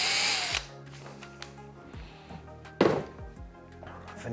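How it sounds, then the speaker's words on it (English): A power drill whirs as it bores a pilot hole for a screw while a shelf is being put up, a high-pitched spin-up followed by lower grinding bursts and a sharp surge near the end, close and alone. "Or you could use a drill."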